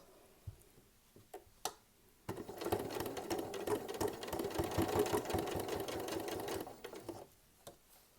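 A sewing machine stitches strips of fabric for a rug in one steady, rapid whirring run of about five seconds, close up, with a few light clicks before and after.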